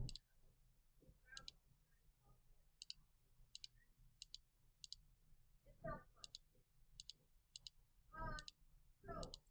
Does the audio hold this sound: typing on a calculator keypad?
yes